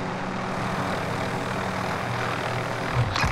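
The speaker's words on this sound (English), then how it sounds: "A helicopter battle." A steady, loud engine-and-rotor drone from a helicopter during a video game battle, droning continuously without a break and swelling slightly at the end.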